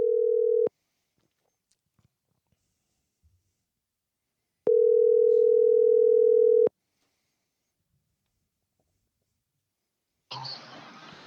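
A phone line ringing out as a podcast rings a guest: two long steady ring tones separated by silence, clear and alone, with a short burst of noise at the end.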